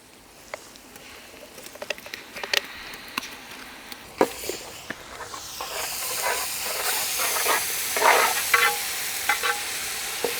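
Green chilies and ginger garlic paste sizzle in a pan for Rajasthani-style Jodhpuri kabuli pulav. Faint crackles and ticks grow into a loud, steamy hiss with spattering, and no voice is heard.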